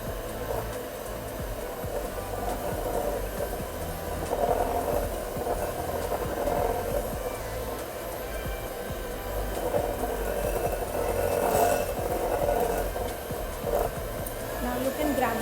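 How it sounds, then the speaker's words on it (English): An electric beater mixes butter and sugar for vanilla cupcakes at low speed, giving a steady moderate whir with some rattling in the bowl. It runs continuously throughout. "Now I'm going to slowly beat it with the beater."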